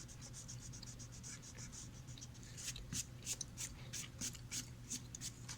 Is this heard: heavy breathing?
no